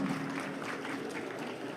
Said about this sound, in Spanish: Que vengan esos aplausos de Andahuaylas.